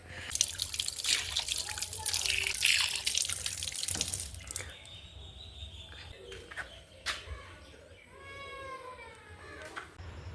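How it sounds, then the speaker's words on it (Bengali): Water from a tap splashes onto a face in a loud rush for a few seconds, then fades to quieter trickles while birds chirp nearby. "মা বললো আমাকে একটু জল দিতে মুখের মধ্যে"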